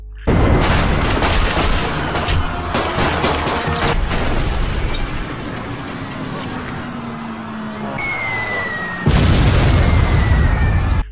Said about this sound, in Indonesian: terlibat baku tembak dengan tentara Jepang